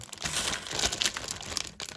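Plastic bag of parts from an Academy HMMWV M997 Ambulance scale model kit being handled and opened, giving a steady close crinkling and rustling with a few sharper crackles, no talking.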